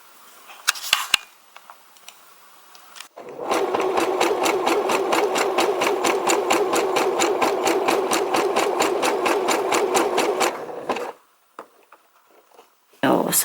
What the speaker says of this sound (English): To not break the thread, I will use a zigzag stitch.